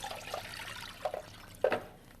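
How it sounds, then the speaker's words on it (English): Water is poured into a kitchen pan in a few short splashes and drips that end in a louder splash. The sound is close and fairly quiet, with no talking. "I'm going to put the rest of our water in the pan now."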